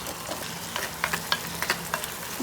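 Agathi greens with grated coconut being stirred in a hot frying pan, a close steady sizzle with repeated scraping spatula strokes in an uneven rhythm.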